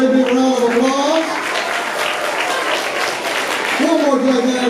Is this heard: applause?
yes